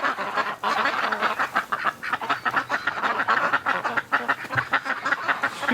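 Several ducks quack in rapid, overlapping bursts, a busy chattering flock close by outdoors in winter with no pause.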